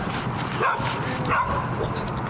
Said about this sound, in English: Dogs screaming bloody murder.